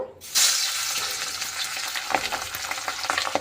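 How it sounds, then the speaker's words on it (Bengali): Pabda fish frying in hot oil in a wok, a loud sudden sizzle that bursts up as the fish goes in, then a sustained crackling hiss with scattered spits and pops, close up and without talking. "এবার আমি পাবদা মাছগুলো ভেজে নেব।"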